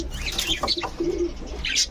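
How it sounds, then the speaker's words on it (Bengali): Pigeons coo softly up close while wings flap in brief bursts, mixed with a few short chirps. "তো রিয়াদ ভাই এই কবুতরগুলো কতক্ষণ উঠবে ভাই"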